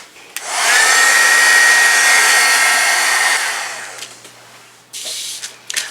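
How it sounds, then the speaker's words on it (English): A heat tool blows steadily to dry a layer of gesso on a blank page, a loud, continuous airy roar lasting about four seconds before it cuts off, followed by faint handling noises. "I'm just going to dry this with a heat tool."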